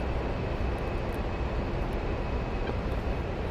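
An A-10 jet's engines in a cold-war combat flight simulator, a loud, steady broadband roar that holds without pause, with no voices over it.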